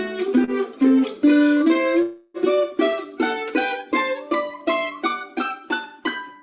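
Mandolin picks bluegrass-style double stops in sixths, bright paired notes struck one after another in a steady pulse, a few longer ringing chords first, then a brisk even sequence, close and alone.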